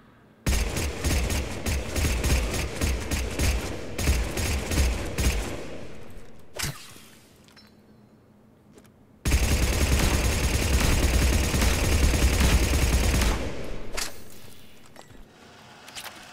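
A Blood Pack Punisher rifle in Mass Effect 3 firing on full auto in two long, loud, sustained bursts, with a short quiet gap and a single shot between them.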